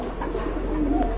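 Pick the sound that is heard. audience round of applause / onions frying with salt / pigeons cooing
pigeons cooing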